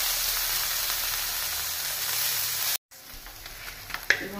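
Chhana fries in a little ghee in a wok, giving a steady close sizzle that cuts off abruptly partway through and then resumes as fainter frying with a few clinks.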